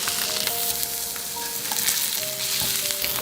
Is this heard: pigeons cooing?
no